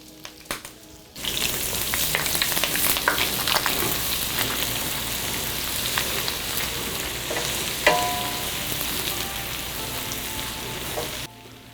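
Shallots and crushed red pepper fry in a pan, a bright, steady sizzle that bursts in suddenly and holds for about ten seconds, with occasional pops and crackles, close and fairly loud.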